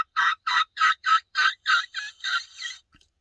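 A diaphragm turkey call voiced by mouth gives a run of about nine clear, evenly spaced yelps that fade toward the end, close and loud, a human imitating a wild turkey's call.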